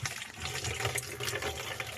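Fast-flowing water in a remote village on an island in the Sundarbans, a loud, dense, steady rushing and splashing close by with no clear break.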